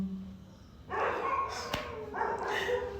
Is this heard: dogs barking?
yes